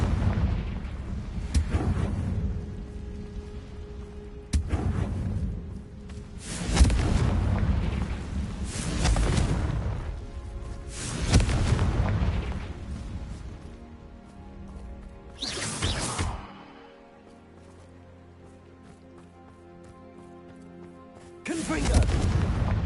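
Repeated Confringo spell explosions in Hogwarts Legacy, heavy booming blasts arriving every couple of seconds with rumbling tails, then a quieter lull before another loud burst.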